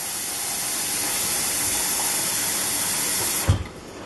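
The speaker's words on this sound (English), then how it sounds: "I always throw a little bit of water in it." Water thrown into a hot Dutch oven with ribs steams with a loud, steady hiss that holds for several seconds, then cuts off abruptly with a brief clatter near the end.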